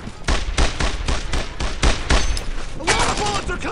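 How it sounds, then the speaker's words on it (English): MG-42 machine gun fire in the World War II shooter Brothers In Arms, rapid loud bursts of gunfire in a dense, rhythmic stream, with scattered battle noise and shouting voices mixed in. "Attack that MG-42!"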